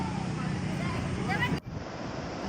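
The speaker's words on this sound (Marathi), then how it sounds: "इकडे समोर आहे तो समुद्र त्याच्या लगेच दिसतं अथांग पसरलेलं समुद्र शांतपणे लाटा आहेत त्याच्या" Sea waves wash near the Ganesh temple shore at Ganpatipule at about six in the evening, giving a steady surf wash with wind noise on the microphone, and a sharp dip in level partway through.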